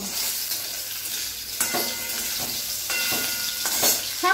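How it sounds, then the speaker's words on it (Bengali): Meat fries in mustard oil in a wok, a close, hissing sizzle with several scraping stirs and clinks from a utensil and no voices. "মাংসগুলো শুধু লবণ হলুদ ছাড়াই আমি ভেজে নেব"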